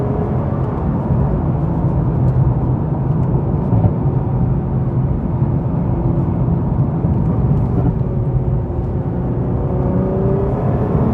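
Engine of a 2020 Nissan GT-R 50th Anniversary Edition pulling hard between tight corners, a steady loud in-cabin drone with a faint rising whine near the end, no voices.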